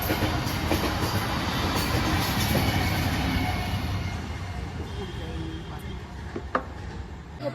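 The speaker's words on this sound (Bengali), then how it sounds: "ট্রেন সামনে দিয়ে দেখো ট্রেন যাচ্ছে" A train rumbles past close by a trackside shop with a steady broadband roar and rattling, gradually easing off; faint voices are heard in the background.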